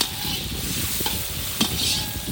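Goat head gravy being stirred in a pan during village-style outdoor cooking, with a continuous sizzling hiss and a few scraping strokes of the paddle close up.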